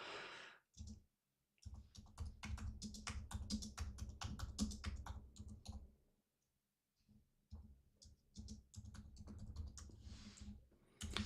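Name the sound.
typing on computer keyboard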